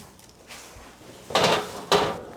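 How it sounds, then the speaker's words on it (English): Two sharp metallic clunks of a filled muffin pan being slid into a home oven set to 350 degrees, the second about half a second after the first, close and fairly loud over quiet kitchen room tone. "We got our muffin pan filled and we're ready to put it in the oven at 350 degrees."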